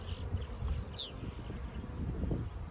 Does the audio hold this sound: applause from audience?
no